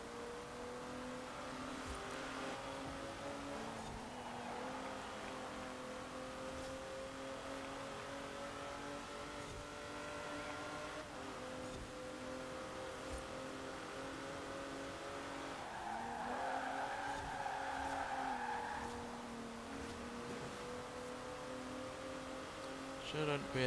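A Kia race car engine in Forza Horizon 4 holds a steady droning tone with shifting pitch, tires squealing mid-race, at a constant moderate level with no speech.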